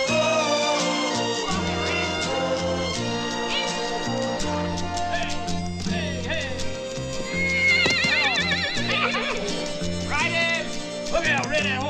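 A horse whinnies amid a western film's orchestral score, shrill wavering neighs rising over the music in the latter half, with clip-clop and voices mixed in.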